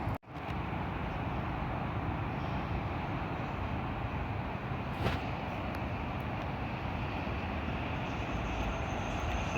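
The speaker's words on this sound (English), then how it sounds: "Catching trains going above and across the Schuylkill River." An Amtrak intercity train rumbles steadily across a bridge over the Schuylkill River, a continuous broad roar of wheels and cars with a brief sharper clank midway.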